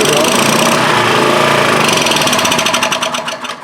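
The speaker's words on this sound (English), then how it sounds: "It's started up on carb cleaner, so that means that everything is okay" Small portable generator engine running on carb cleaner after being started, a loud, rapid mechanical chatter close by that begins to stumble and fade at the end; no voices are heard.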